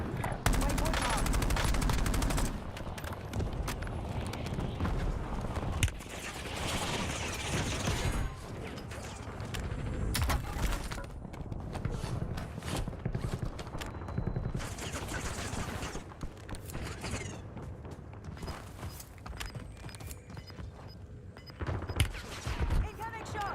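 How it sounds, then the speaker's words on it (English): Sustained gunfire in the video game Warzone: loud bursts of automatic fire and scattered shots running throughout, with mechanical weapon handling sounds and faint game voices in the mix. "Incoming shots."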